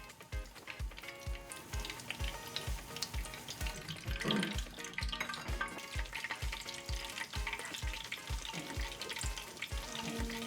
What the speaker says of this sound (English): We're frying chicken.